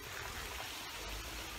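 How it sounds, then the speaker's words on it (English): Water splashing steadily in a public park fountain in New Zealand, a continuous faint wash of falling water with no voices. "that fountain isn't the filtered fountain you can drink out of"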